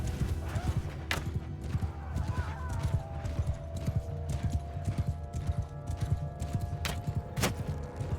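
Many horses gallop with steady clattering hooves in the video game Mount & Blade II: Bannerlord, horse archers in a fight, a neigh rising briefly above a busy battle din.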